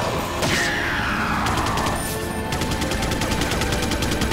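Rapid gunfire rattles in Resident Evil 4 HD, a sharp shot followed by a fast, even burst of repeated shots, loud and close over a dense game soundscape.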